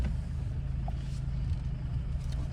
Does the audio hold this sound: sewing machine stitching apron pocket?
no